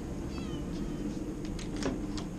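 A shelter cat gives a couple of soft meows over steady room noise, with a brief higher cry near the end. No one speaks.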